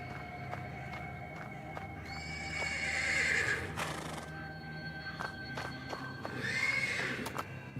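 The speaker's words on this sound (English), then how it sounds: "The persistent neighing of a horse can be heard from the stables." Repeated loud horse whinnies from the stables in the video game Black Book, two long shrill neighs separated by snorts and hoof clatter over a quiet ambient bed.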